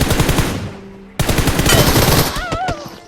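Bursts of M4 rifle fire in the video game PUBG, rapid and loud, with a sharp new volley partway through and a couple of rising electronic tones near the end.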